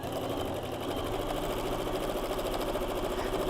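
A sewing machine runs steadily, stitching a bowtie block for a big-block quilt, its fast even needle rattle loud and close with no pauses and no voices.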